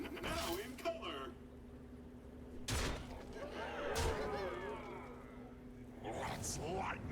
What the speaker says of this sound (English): Explosions! Now in color!